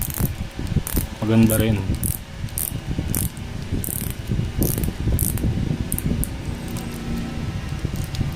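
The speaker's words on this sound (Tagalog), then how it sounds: "Kita nyo yung tunog ng bezel niya pag inikot" Rapid small ratcheting clicks repeat as a watch bezel is rotated, close and crisp, with a brief voice speaking partway through.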